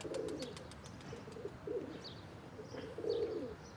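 Pigeons coo in low throaty bursts at a moderate distance, with faint chirps and light rustling between calls.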